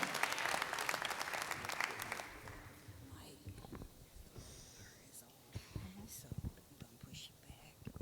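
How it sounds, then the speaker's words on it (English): Applause from an audience at a CBTU 2019 conference session, loudest for the first two seconds, then thinning into scattered claps and murmuring with a few faint voices. "can we please give him a round of applause for helping us rebuild this program?"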